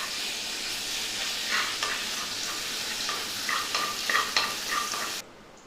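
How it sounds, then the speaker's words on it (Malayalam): Ginger garlic paste sizzling in hot oil, a steady close frying hiss throughout with occasional spoon stirs scraping the pan, then cutting off abruptly near the end. "നമ്മൾ എണ്ണ ചൂടായിട്ടുണ്ട്, അതിലോട്ട് ഈ ഇഞ്ചി വെളുത്തുള്ളി പേസ്റ്റ് ഇട്ട് കൊടുക്കാം."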